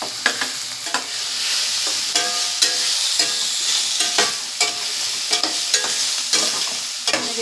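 Chopped tomato and onion fry in masala in a pan, with close, loud sizzling and rhythmic repeated stirring scrapes every half second or so, no voices.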